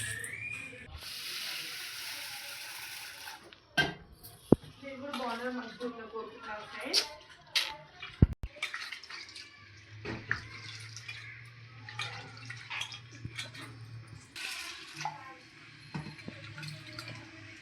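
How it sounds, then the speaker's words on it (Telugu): Black gram lentils are washed in water: splashing, swishing and pouring from close by, with bursts of water and faint voices in the background. "దీన్ని మనము శుభ్రంగా రెండుసార్లు వాటర్లో కడుక్కోవాలి"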